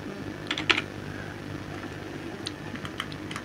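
Keystrokes on a computer keyboard as a business name is typed into a company application form: scattered, soft clicks in short clusters over a steady low hum, with no voices.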